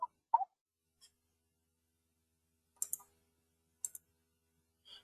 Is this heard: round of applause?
no